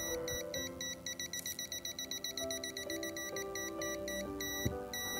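A digital multimeter in non-contact voltage mode beeps near a soldering iron, giving a rapid, evenly pulsed string of shrill electronic beeps that becomes a steadier tone partway through, close and clear over a low background hum.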